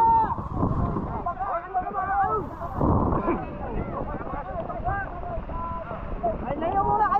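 A bangka, a Filipino wooden outrigger boat, moves across open water with a steady rumble and wind noise, while several people talk loudly close by throughout.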